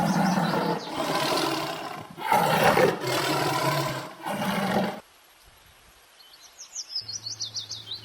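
A tiger roars loudly in several long, rumbling bursts, then falls quiet while birds chirp softly in the background.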